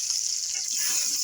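Chopped onion fries in mustard oil in a wok with a steady bright sizzle, close and continuous, with faint stirring underneath.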